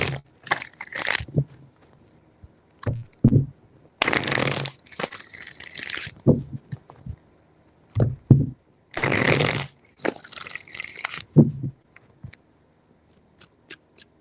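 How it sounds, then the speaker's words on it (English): Cards are shuffled up close in several separate bursts of riffling and rustling, with pauses and soft handling noises between them. "3 shuffles."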